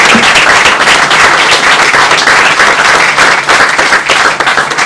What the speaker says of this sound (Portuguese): eu peço uma grande salva de palmas para o João Vasco Reis